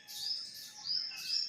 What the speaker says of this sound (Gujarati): ખિસકોલીનું મધુર સંગીત વાગી રહ્યું છે।